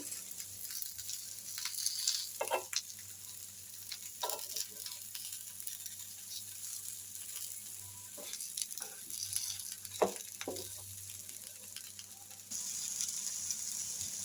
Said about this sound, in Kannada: ಇವಾಗ ನಾವು ಇನ್ನೊಂದು ಸೈಡು ಮೀನನ್ನ ತಿರುವಿ ಹಾಕೊಳ್ತಾ ಇದ್ದೀನಿ.